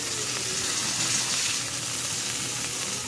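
A filet mignon sears in a hot pan with a dense, loud and unbroken sizzle. Faint scraping and shifting sounds come as the steak is moved about.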